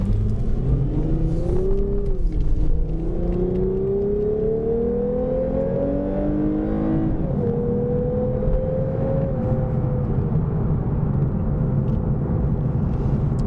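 A 2021 Lexus IS 350 F Sport with its non-turbo engine accelerating, heard from inside the cabin as a loud, steady engine drone rising in pitch through the gears, with a brief dip at each shift and no talking.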